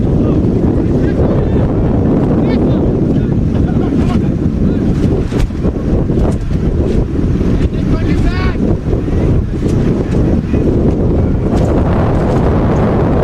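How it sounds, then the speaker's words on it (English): Strong, steady wind buffeting the microphone throughout an evening college baseball game, a constant low roar with faint voices and crowd sounds underneath. "Really windy evening here in Newman. You can hear it."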